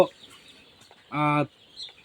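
A single loud, drawn-out chicken call rises out of a quiet poultry farm shed bedded with rice straw, with faint clucks and scattered small noises around it.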